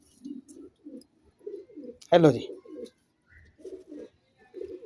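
Pigeons cooing softly in a loft, repeated low murmuring coos in short phrases, with a brief spoken greeting breaking in midway.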